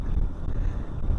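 Steady, heavy wind buffeting close to the microphone while riding a Honda CB150X motorcycle on a touring trip, a loud continuous low rumble with no talk.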